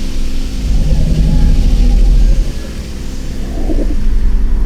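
A single car passes along a nearby road, its low engine rumble swelling and fading over a few seconds against a steady background drone, with no voices.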